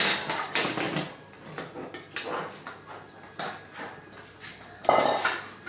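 Repeated metallic clanks and rattles of a metal food bowl picked up by a dog, irregular and close, scraping and knocking at intervals.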